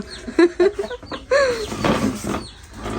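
Chickens cluck around a village home in a few short, close bursts and rising calls, with quieter gaps between them.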